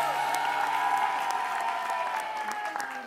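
A television studio audience applauding steadily, a dense wash of clapping from many hands that holds at an even level throughout, with voices faintly mixed in.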